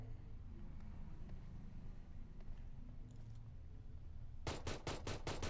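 Gunfire from a mobile battle royale video game comes as a fast burst of about six sharp shots near the end, after a steady low rumble of background sound with no talking.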